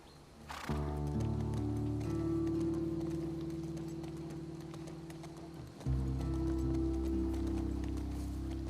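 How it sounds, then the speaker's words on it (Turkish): Horse hooves clip-clop steadily in the video game The Last of Us Part II as a horse is ridden, a continuous rhythmic gait that briefly drops before resuming, with game ambience beneath and no talking. "Atı nasıl koşturuyoruz?"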